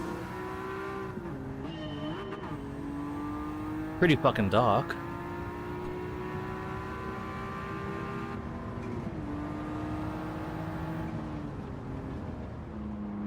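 A racing car engine in Gran Turismo 7 or Forza Motorsport holds steady tones that shift with gear changes and brief revving bursts, running throughout beneath a man's speech.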